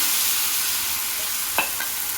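Ragi ghavan batter of finger millet flour poured into an oiled pan, giving a soft steady sizzle with a faint spatter near the end; no voices.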